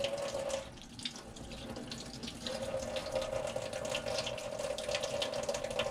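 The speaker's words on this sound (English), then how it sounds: "I'm going to run water in this faucet" Cold water runs steadily from an RV faucet into a sink, a continuous hiss and splash with a faint tonal whine, close and fairly loud, no talk.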